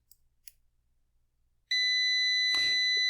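A Kaiweets KM602 smart digital multimeter in continuity mode gives a loud, steady electronic beep that starts abruptly partway through and holds to the end, after a quiet start with a few faint clicks of the probes touching.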